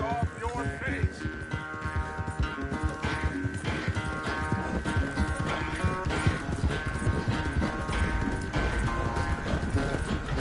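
Horse hooves clip-clopping at a steady gait while riding in the video game Red Dead Redemption, mixed under a dense bed of game music and ambience, moderately loud and continuous throughout.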